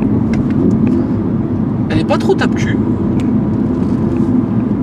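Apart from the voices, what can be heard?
Audi R8 V10 engine accelerating and shifting gears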